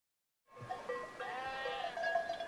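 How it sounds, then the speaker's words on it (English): Goats and sheep bleating out in the Judean hills, several overlapping wavering calls that start after a brief silence and carry on steadily at moderate loudness, with no talk. "In Judea today, sheep and goats are still grazed in the hills."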